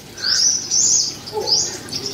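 Lovebirds and budgerigars chirping in a garden, bright high tweets in two or three short bursts, close and fairly loud, with no talk.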